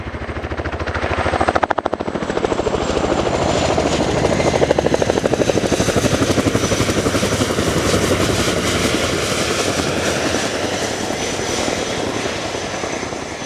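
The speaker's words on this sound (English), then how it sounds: "as the Chinook returns to parking" An RAF Chinook HC.6 twin-rotor helicopter at the RIAT 2025 air show makes a loud, close, continuous rotor thump and turbine roar with a steady pulsing beat throughout, alone without voices.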